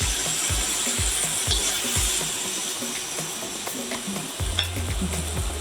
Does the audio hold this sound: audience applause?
no